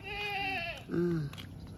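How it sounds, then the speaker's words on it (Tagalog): A goat bleats twice close by in a farmyard, a wavering cry followed by a shorter, lower one, with faint background noise and no talk. "Yan, kambing yan ni Nanay Alay."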